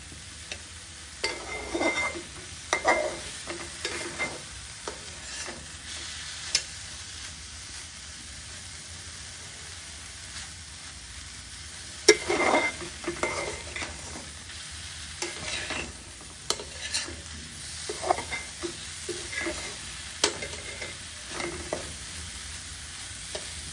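A pumpkin mixture cooks down in a pan, a quiet bed of frying punctuated by repeated scraping and stirring strokes at irregular intervals, with occasional sharper clinks of the utensil.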